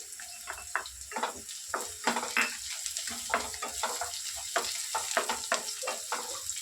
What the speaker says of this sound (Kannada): ಈಗ ಬೆಳ್ಳುಳ್ಳಿ ಹಾಕೊಳತ್ತೀನಿ ರೀ ಪೇಸ್ಟ್.